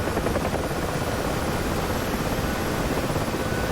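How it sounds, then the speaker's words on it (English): Dense, steady rotor and turbine roar of a helicopter in a DCS flight simulator Falklands War re-enactment, loud and continuous throughout with no speech. "It's just these helicopters are not easy to operate."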